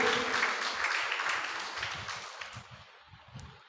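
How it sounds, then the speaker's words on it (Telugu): A church congregation claps together loudly during a service, a dense wash of applause that swells and then gradually tapers off, with no speech over it. "ఒక్కసారి మనం గట్టిగా చప్పట్లు కొడదాం"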